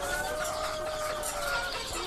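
Steady soft clucking and murmuring from chickens close by, one of them sick, a continuous low chatter with no talking, ending in a brief louder burst.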